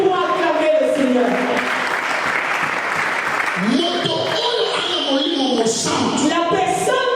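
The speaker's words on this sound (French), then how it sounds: "Est-ce que nous pouvons acclamer le Seigneur?" A church congregation applauds to acclaim the Lord, a dense wash of clapping from many hands filling the room, while a preacher's voice speaks loudly over the ovation.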